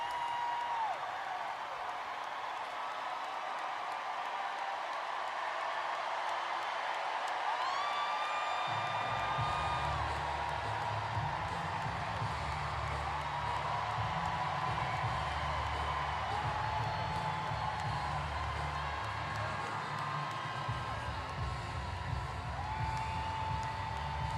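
A campaign rally crowd in Philadelphia cheering and whooping, a distant roar of voices that swells after a few seconds and holds steady, with scattered shouts and applause, heard faintly through a broadcast.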